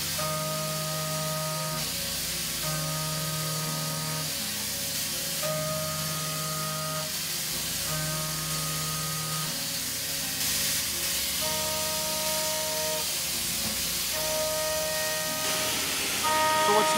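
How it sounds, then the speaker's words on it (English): A Haas DM-2 CNC machine mills steel with its spindle at 15,000 RPM, a loud continuous hiss of coolant and cutting over repeated tonal whines as the axes rapid back and forth. "we're cutting steel, but we're not doing a heavy, aggressive cutting demo"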